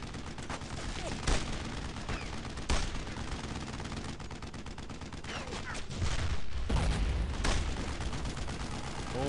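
Dense gunfire fills a World War II battle in the game Brothers in Arms: Road to Hill 30, with rapid bursts, sharper single shots and a heavier rumble joining near the end, while a voice occasionally speaks over the fighting.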